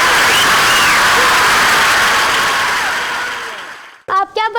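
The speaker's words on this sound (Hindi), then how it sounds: "नोफिल के लिए बहुत सारी तालियां" A studio audience at a live kids' game show in Pakistan claps loudly and steadily for about four seconds, then fades out before a voice starts talking.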